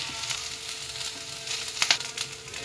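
Onions and greens frying in a pan, giving a steady close sizzle with a few sharp utensil clicks midway.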